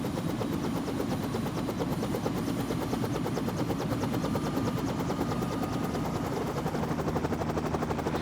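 Helicopter on a tour flight heard from onboard, a loud, rapid rotor chop pulsing steadily over constant engine roar throughout.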